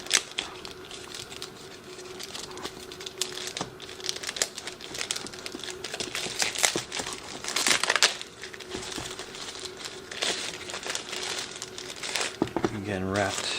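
Plastic wrapping crinkles loudly and continuously around a G11PRO drone controller being unpacked, with sharp close crackles throughout and a brief clatter at the end.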